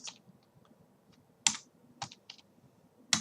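Keys clack on a computer keyboard in a few scattered bursts of typing, crisp and close, with sharp individual keystrokes standing out over a low background hum.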